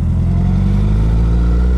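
A 2008 Honda CBR 1000RR sport bike engine holds a steady, loud, close drone on a test ride, with deep low rumble and wind noise throughout and no voices.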